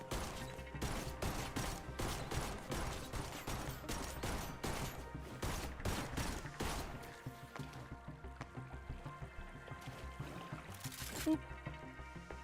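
Gunfire in the video game Duet Night Abyss: rapid, dense bursts of shots layered with clattering mechanical game effects and music, loud and busy throughout, easing slightly near the end.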